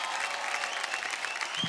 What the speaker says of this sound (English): please give a big round of applause for the entire team of Aaj Ki Raat and Free 2